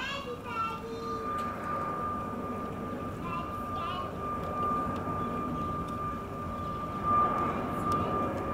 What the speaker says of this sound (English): huge plane